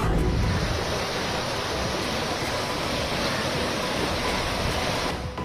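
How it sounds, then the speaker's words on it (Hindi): Floodwater of the swollen Ganga river surging beneath a bridge in Patna, a steady, loud roaring rush of water with a constant wind-like hiss and no voices. "पटना में पुल के नीचे देखिए गंगा का पानी कैसे उफान मार रहा है।"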